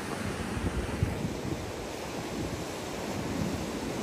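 Steady roar of ocean surf with a constant rush of breaking waves, mixed with wind buffeting the microphone.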